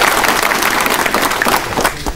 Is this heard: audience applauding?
yes